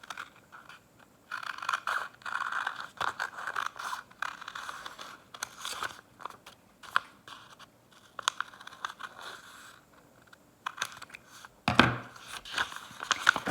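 Paper or card being cut with scissors to shape the flared part of a dress for a craft tunic, giving intermittent close snips and scratchy scraping strokes with brief pauses and a louder crunch near the end.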